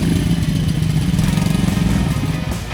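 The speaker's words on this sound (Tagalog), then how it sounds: "Luckily, dili ra pud dugay naa na dayoy ni abot nga motor." A motorcycle engine runs steadily close by near a flooded bridge, a loud, continuous, putting mid-pitched drone with no talk over it.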